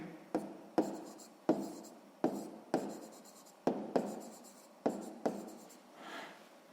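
Pen on paper writing math working for a sixth-grade exercise, a series of short, quiet strokes and taps in an uneven rhythm, close up and alone.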